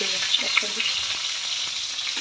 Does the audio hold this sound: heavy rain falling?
no